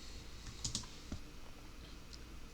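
Keys tapped on a computer keyboard while entering a rotate command during 3D modelling work, a few quiet clicks in a short cluster, faint and close with a steady low room hiss and no talking.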